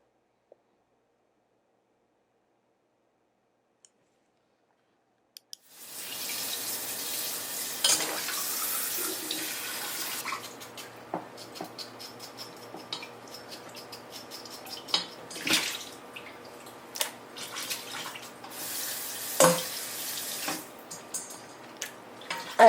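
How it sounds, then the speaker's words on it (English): Running tap water splashes and patters steadily after a quiet start, with intermittent louder spatters and clinks as chicken is rinsed under the flow. "I'm just going to rinse them as I bring them out of the water"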